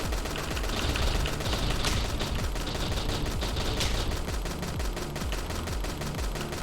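Rapid, continuous turret gunfire in a video game, a dense unbroken rattle of automatic shots at constant loudness with no talk.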